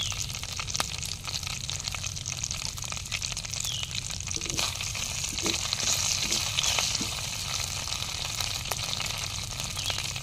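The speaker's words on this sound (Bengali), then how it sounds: "একই তেলের মধ্যে এলাচ লবঙ্গ ডালচিনি দিয়ে দেবো" Whole cardamom, cloves and cinnamon fry in hot oil left over from browning chicken for a village-style Afghani chicken, giving a steady, close, continuous sizzle with no voices.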